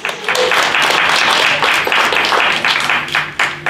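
Steady, full applause from a seated audience at a senior center poetry reading, close and loud clapping that continues without a break before tapering slightly at the end.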